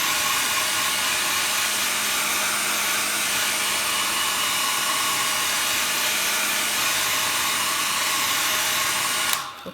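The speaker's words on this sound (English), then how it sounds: "So if you do have a hairdryer to hand, then just dry it off" A hairdryer blowing over a watercolour painting of sun rays, a loud continuous even roar of air that holds steady for nearly ten seconds before cutting off abruptly at the end, with no talking.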